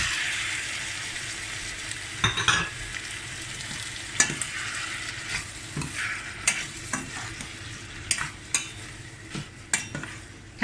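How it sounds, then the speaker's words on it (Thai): Catfish pieces are stir-fried in a pan with pounded curry paste for a pickled bamboo shoot curry. A low frying hiss runs throughout, broken by repeated sharp scraping and clattering strokes of a spatula, close and fairly loud. "จากนั้นก็ใส่ปลาดุกลงไปคั่วก่อน"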